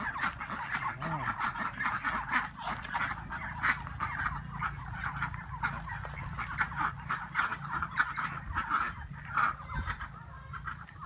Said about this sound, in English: We'll see the ducks.